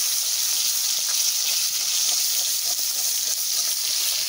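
Hot oil in a kadai hisses with a steady, even sizzle that fills the upper range, close and constant without pauses.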